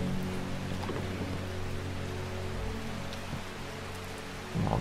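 Rain in the video game Strange Horticulture, a steady patter on surfaces with a faint low musical hum beneath and a few low thumps, no talk.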